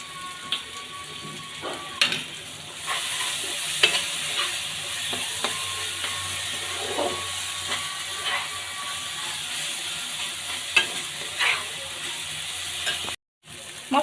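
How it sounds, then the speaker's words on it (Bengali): Mustard paste and spice paste frying in a pan for a Bangladeshi fish curry, a steady soft sizzle broken by scraping stir strokes and clicks of the spoon, moderately close with no talking. "এখন আমি সুন্দর করে মশলাটা কষিয়ে নিচ্ছি"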